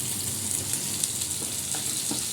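Chopped onion, green chilli and tomato fry in hot oil after a tempering of black cumin, giving a steady, dense close-up sizzle with faint crackles and no talking.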